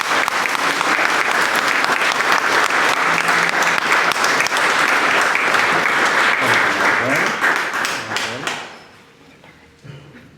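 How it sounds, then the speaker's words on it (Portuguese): Loud applause from a church congregation for young people after their profession of faith at a solemn Mass, a dense steady clapping that fades out near the end. "Uma salva de palmas para estes jovens"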